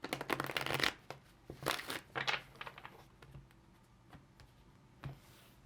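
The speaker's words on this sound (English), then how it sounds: "let's give one more good shuffle" Close riffling of a tarot deck: a few rapid papery shuffle bursts early on, then softer taps and card handling that trail off with scattered light clicks.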